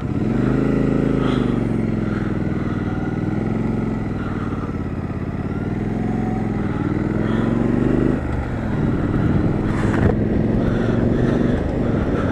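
Triumph Street Scrambler 2017 motorcycle riding along, a steady engine drone with gentle rises and falls in pitch, close and continuous, shifting briefly in tone partway through with light wind noise.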